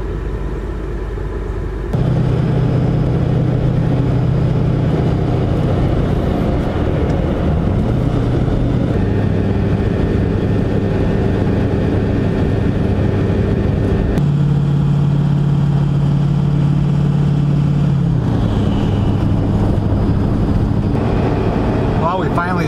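A car cruises steadily on a highway heading north, a loud continuous engine and road rumble with shifting tonal hum as it changes gear or speed, no talking.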